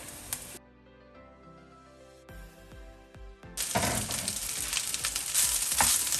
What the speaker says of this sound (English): we are going to fry spring onion for about 30 seconds